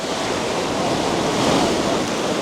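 Heavy sea waves surge and crash against sandbags along a Koh Samui shoreline, a continuous loud roar of broadband surf and spray with steady wind, no voices.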